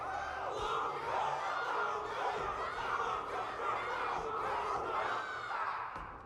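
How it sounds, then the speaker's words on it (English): A large crowd cheering in the video game Honkai Star Rail after a battle, a loud, continuous roar of voices and shouts that fades slightly at the end. "Can't you hear? Everyone's cheering for you, Luca."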